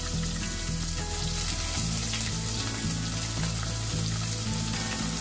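Chopped onion fries in ghee with spices such as bay leaf, cardamom and stone flower for chickpea coconut milk rice, giving a loud, continuous sizzle with light stirring noises and no voices.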